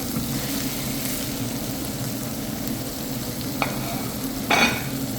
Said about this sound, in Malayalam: നമ്മുടെ വേവിച്ച നൂഡിൽ ഇതിനകത്ത് ഇട്ട് കൊടുക്കാം.